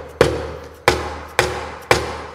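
Four heavy, dull strikes from a dead blow hammer on an ATV, spaced roughly half a second apart, each a thudding blow that dies away quickly, with no talking.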